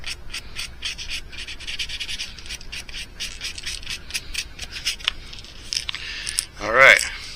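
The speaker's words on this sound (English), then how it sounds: "now that we got the body sanded rough enough" Light, rough hand-sanding of a plastic mouse fishing lure body, a run of soft scratchy rubbing strokes close by, with a brief louder scrape near the end.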